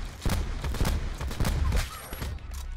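Rapid video game gunfire, a string of sharp shots in uneven bursts, loud and close, some cracking off in quick succession while the pace loosens toward the end.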